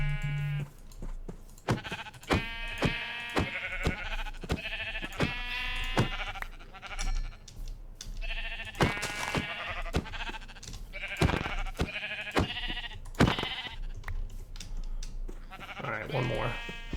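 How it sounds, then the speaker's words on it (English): Sheep in the Minecraft modpack Enigmatica 2 bleat repeatedly in short, wavering calls scattered throughout, some overlapping, with someone talking between and over them. "I see some sheep"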